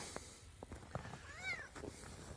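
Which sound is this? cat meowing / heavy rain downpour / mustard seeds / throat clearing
cat meowing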